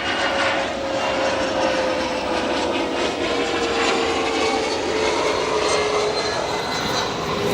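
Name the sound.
SkyWest CRJ 200 jet arriving at O'Hare Airport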